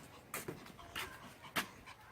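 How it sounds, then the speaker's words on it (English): A dog panting quietly nearby, a few short breathy huffs spaced irregularly over a faint background, soft and close with no talking. "That's the doggy."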